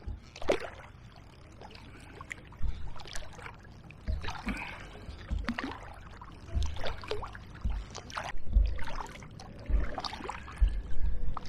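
Paddle strokes from a hire canoe moving upstream on the River Medway, a steady rhythm of soft splashes and dripping water about once a second, close and unaccompanied by voices.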